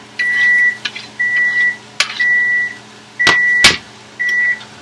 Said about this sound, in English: that's just the timer for the steak